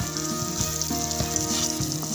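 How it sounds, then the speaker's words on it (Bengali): Onions fry in a pan with a close, continuous crackling sizzle while a spatula stirs and breaks up the clumps, giving repeated short scraping knocks. "একটু খন্তা দিয়ে নেড়ে নেড়েও যে পেঁয়াজগুলো একসাথে দলা পাকিয়ে আছে সেগুলো ছেড়ে ছেড়ে দিচ্ছি"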